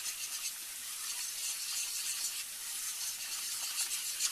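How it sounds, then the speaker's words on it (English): Flour whisked into melted butter in a pot for a shrimp corn chowder roux, a soft steady scraping and sizzling hiss with a faint rhythmic rub, quiet and close with no talk. "So what I'm going to do now is add my flour. And I'm going to whisk until it's smooth."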